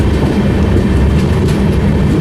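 A train rolls past close by with a steady, loud rumble and faint clatter of wheels, near a steel plant where an ALCO diesel locomotive is on shunting duty.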